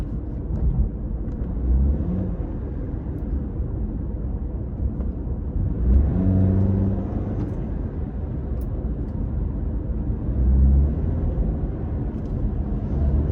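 A 2018 Toyota Camry LE with a CVT accelerating, heard from inside the cabin as a steady low engine drone that holds an even pitch and swells gently, with road rumble underneath and no talking.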